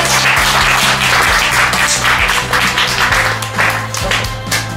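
Audience clapping at a birthday live show, lively applause with a few taps over a low sustained musical tone and a faint voice underneath.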